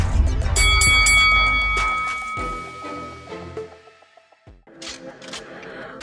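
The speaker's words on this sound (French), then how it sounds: "Faites sonner la cloche" A boxing bell rings loudly at the start of a boxing news show, its metallic tone sustaining and slowly fading, followed by a few quieter scattered sounds.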